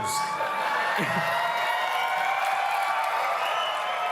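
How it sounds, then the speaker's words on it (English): A standup comedy crowd bursts into applause mixed with whoops and cheers, a dense, steady roar of clapping and shouting that carries on for the full stretch. "Big applause break there."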